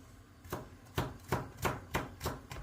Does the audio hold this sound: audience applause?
no